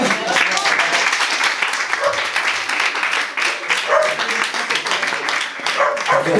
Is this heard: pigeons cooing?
no